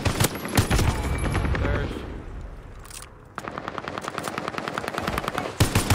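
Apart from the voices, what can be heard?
gunfire in Call of Duty Warzone video game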